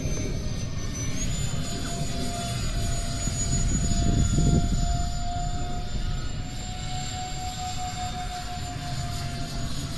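An RC Habu SS 70mm electric ducted fan jet flies overhead with a continuous high-pitched whine and roar that swells as it passes closer around the midpoint, then eases off, with no voices.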